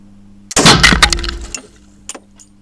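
Wood pieces breaking apart during attic demolition, a loud sudden crash with splintering debris, then a few scattered cracks and falling bits fading away.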